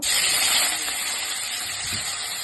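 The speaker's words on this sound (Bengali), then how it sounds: "পনিরগুলো হালকা ভেজে নিব।" Paneer cubes frying in hot salted oil in a pan, a steady close sizzling hiss that holds evenly throughout.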